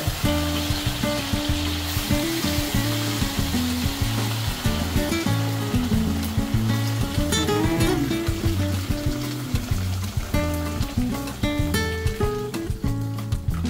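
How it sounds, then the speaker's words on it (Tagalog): Hot water hits a browned mixture in a hot pan and sets off a loud, continuous sizzle with bubbling and stirring, close and sustained throughout. "So, lalagyan na natin ang hot water."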